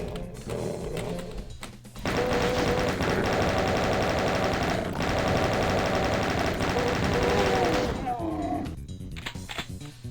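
Sustained rapid automatic gunfire from a fast-firing weapon in a Doom map, a dense unbroken burst lasting several seconds, loud and close, with game sounds before and after.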